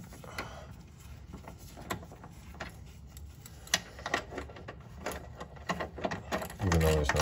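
A hand ratchet runs a bolt up on a front sway bar bushing of a 2010-13 Mazda3, giving quick repeated clicks against a steady background, ending in a louder burst of mechanical noise.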